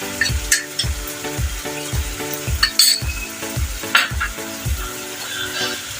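Pav bhaji masala and red chilli mixture is stirred in a sizzling pan, a spoon scraping and knocking in a steady rhythm of about two strokes per second over continuous frying.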